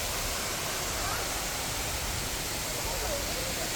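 Steady broadband rush of falling water at Bolinao Falls in the Philippines, running weak with a low flow, a continuous even hiss filling the scene from close by.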